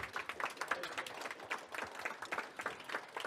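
An audience applauds during a fall education session. Dense, fairly faint clapping runs steadily throughout the short stretch.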